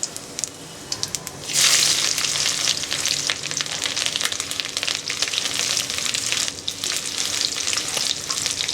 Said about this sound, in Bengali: এটা আমি খুব ভালো করে ভেজে নেব।